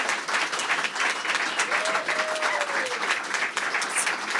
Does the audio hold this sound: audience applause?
yes